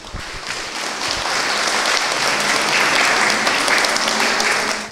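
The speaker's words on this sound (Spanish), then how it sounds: "de parte de las madrecitas un caluroso aplauso por todo este acto que ustedes están haciendo por el bienestar de ellas" An audience at a Mother's Day celebration claps warmly for the social volunteers, a dense, steady round of applause that swells and holds, then stops abruptly.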